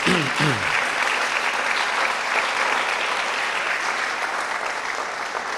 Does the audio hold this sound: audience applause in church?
yes